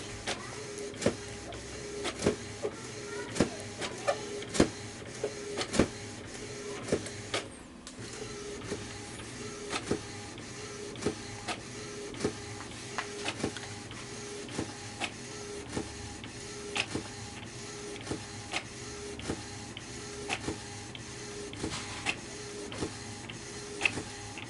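An Epson inkjet printer with a continuous ink supply system runs steadily up close, its print head carriage shuttling with regular clicks and whirring strokes throughout, with no talking.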